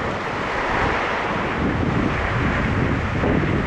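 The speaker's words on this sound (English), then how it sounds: "Very windy now too." Strong wind roars steadily across the microphone beside a crystal-clear small stream, a dense, even rushing hiss with no voices.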